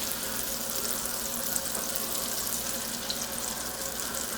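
Half a stick of butter melts in a hot pan, giving a steady, close hiss of fine sizzling and crackle with no talk over it.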